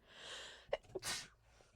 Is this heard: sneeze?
yes